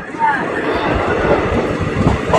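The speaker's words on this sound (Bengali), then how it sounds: "ট্রেনটি তার পরবর্তী হল্ট ভাবদা স্টেশনে ঢুকছে" A local train on the Azimganj–Krishnanagar route pulls into Bhabda halt on the down main line, its wheels rumbling and rattling loudly and steadily up close, with a faint high squeal.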